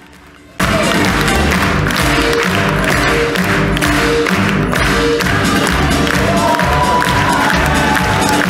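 A theatre audience at a comedy premiere bursts into loud, sustained applause mixed with cheering and crowd noise, starting abruptly after a quiet moment and continuing steadily.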